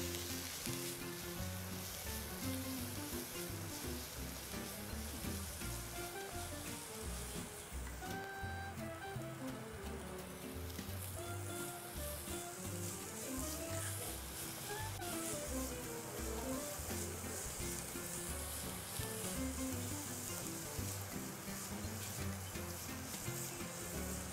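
Food sizzling and frying steadily in a pan while being stirred, a dense continuous crackle at close range throughout, in a low-fat, low-sodium cooking session, with no voices.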